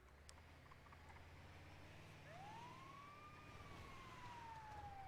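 A faint emergency vehicle siren rises and then slowly falls in pitch as a single distant wail, over a low rumble of background traffic.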